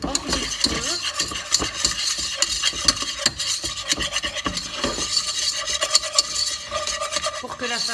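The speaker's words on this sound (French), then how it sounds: "je viens y mettre d'une seule fois la farine et je fouette hors du feu" A whisk scrapes and stirs rapidly through flour and melted butter in a pan off the heat, a steady close rasping churn with dense rhythmic strokes throughout.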